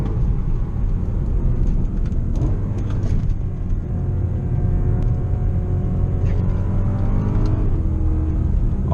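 A BMW E90 M3 engine pulls hard while driving, heard from inside the cabin as a loud, continuous rumble with rising and falling revs through gear changes, dominant throughout with no talk.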